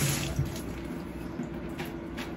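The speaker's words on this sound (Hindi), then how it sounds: "तो चलो मैं हाथ धो लेती हूँ" A kitchen tap runs steadily while hands are washed under it, a close, continuous splashing rush of water with no voices.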